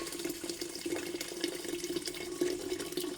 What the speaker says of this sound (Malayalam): അപ്പോൾ ആ വെള്ളം ഞാനിതിൽ ഒഴിച്ചു കൊടുക്കുകയാണ്